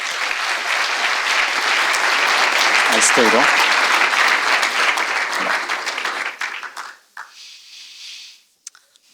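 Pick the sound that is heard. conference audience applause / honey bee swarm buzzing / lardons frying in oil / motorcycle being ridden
conference audience applause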